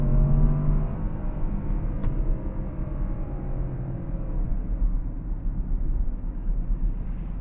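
A 2012 Porsche Cayenne S accelerating on the road, its engine note rising in a smooth, steady sweep under interior road and wind noise, with no voices.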